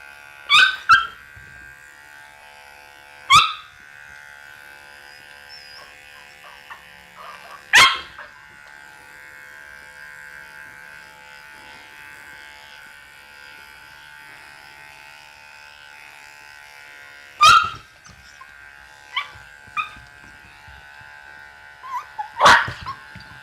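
Dog yelping and screaming in sharp, isolated bursts during grooming, spaced several seconds apart over the steady hum of an electric trimmer.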